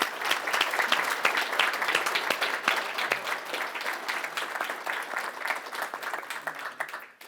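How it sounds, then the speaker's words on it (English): Wedding guests applaud, a dense burst of clapping close by that stays loud and then slowly thins out over about seven seconds. "How about a round of applause?"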